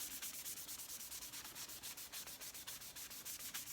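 A cloth wipes finish onto a wooden utensil made from scrap wood in quick, steady back-and-forth strokes, a soft, regular rubbing that repeats evenly, up close and alone.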